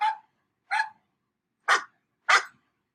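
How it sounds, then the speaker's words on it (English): A dog barks four times in separated single barks, the later two louder and sharper, with silence between them. "The dog's name was Rufus."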